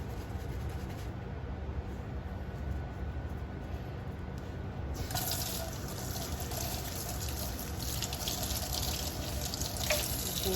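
Tap water runs into a sink while a makeup brush is washed with Dawn dish soap, a steady close hiss of flowing water that brightens and splashes more as the brush moves under the stream.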